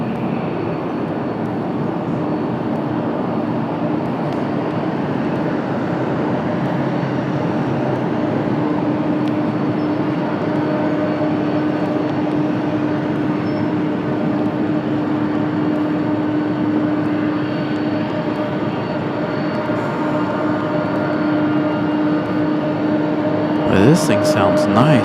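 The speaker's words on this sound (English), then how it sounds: "This thing sounds nice. Nice sounding 767." An ITA Airways Boeing 767 jet at Washington Dulles on a cloudy day, a steady, sustained engine roar and whine that stays loud and even throughout, with a few clicks near the end.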